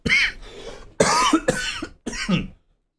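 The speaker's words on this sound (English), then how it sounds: "coughing fit" A person has a coughing fit during a reaction stream: three harsh bursts of coughing, each a cluster of rough hacks, close and loud with short gaps between, trailing off into silence.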